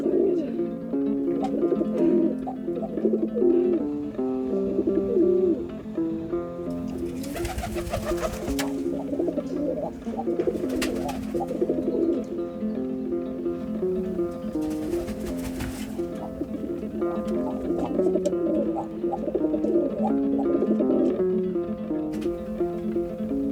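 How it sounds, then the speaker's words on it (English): Pigeons in the south of France cooing in repeated low, throaty phrases, close and fairly loud, with a few bursts of flapping wings or rustling amid steady outdoor background. "and then all the pigeons that I've seen"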